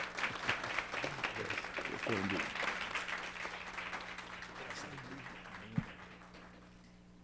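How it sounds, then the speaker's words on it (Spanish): A church congregation applauds during a service, the crowded clapping gradually fading out while a voice speaks over it. "Hay un aplauso al Señor."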